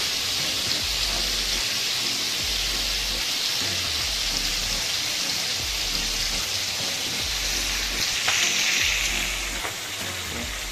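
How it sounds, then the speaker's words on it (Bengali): Meat fries in a pan with a dense, continuous sizzle and hiss close by, steady throughout, with a few soft low thumps underneath. "এখন মাংসগুলোকে ভাজছি"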